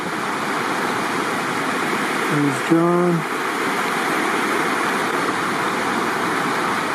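A river flows right beside a tent pitched on the bank, a steady broadband rush of water running throughout, with someone speaking briefly over it.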